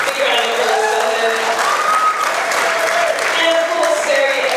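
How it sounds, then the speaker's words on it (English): Sustained applause from a dinner audience at a black-tie 50th anniversary gathering of a rugby union club, dense clapping filling the room evenly throughout, with faint voices mixed into the crowd. "Big round of applause for her."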